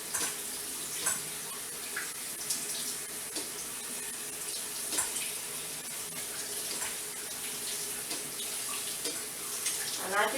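Cold tap water runs steadily into a kitchen sink while spaghetti, crab and veggie salad are being prepared, a continuous close splashing hiss lasting throughout with no talk.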